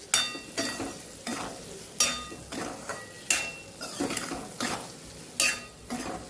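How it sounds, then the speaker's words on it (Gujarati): Chopped ridge gourd curry is sautéed in a pan over a low gas flame, with a spatula scraping and clacking against the pan in regular strokes over a soft, continuous sizzle, close up and without talk. "ગેસ આપણે ધીમો જ રાખેલો છે ધીમા ગેસ ઉપર આપણે સાતડીએ છીએ"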